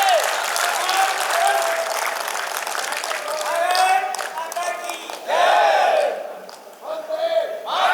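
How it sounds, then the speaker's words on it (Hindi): A crowd at a Hindi lecture gathering bursts into sustained applause with loud cheering and shouted chants rising and falling over several seconds, swelling again near the end. "ताली बजा दीजिए एक बार।"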